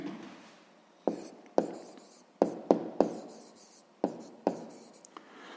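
A pen writes on paper in a run of about eight short, sharp strokes with soft scratching between them, close up and with no talk.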